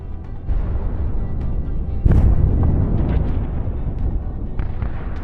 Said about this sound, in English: This tank is trying to break through under the strikes of Ukrainian artillery.